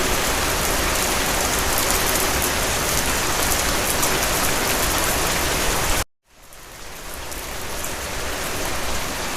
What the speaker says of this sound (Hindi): बारिश अभी क्यों?